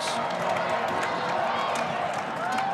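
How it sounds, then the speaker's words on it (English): Crowd noise at a Camdenton vs Lebanon high school football game fills the air as a broad, steady roar of cheering that holds loud and continuous throughout, ahead of a big third-and-four play. "The crowd going to make some noise."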